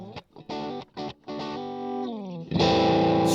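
Electric guitar run through a Digitech effects processor on a Ui24R mixer, distorted chorus-tinged chords and short stabs ending in a loud sustained strum, close and alone.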